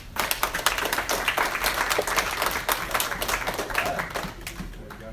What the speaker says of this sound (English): polite golf applause is appropriate for this part of the ceremony